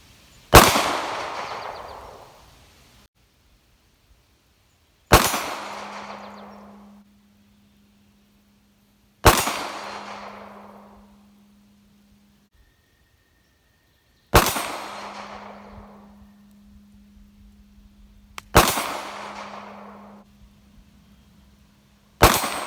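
Five loud, sharp pistol shots from a Ruger LCP fitted with a LaserMax laser, spaced a few seconds apart, each with a decaying echo and no talk between them.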